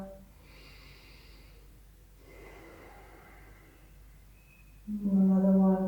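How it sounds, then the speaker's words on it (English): Soft, audible breaths drawn and let out during a yoga session, two slow airy cycles with a brief gap between, followed by a louder voiced exhale or sigh near the end. "Take some deep breaths here."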